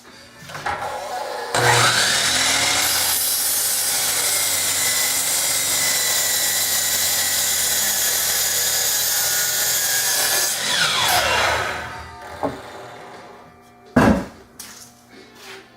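A power saw cuts slowly through a wooden board for a bed frame in a workshop, its loud steady whine running about nine seconds before winding down, followed by a couple of sharp knocks of wood.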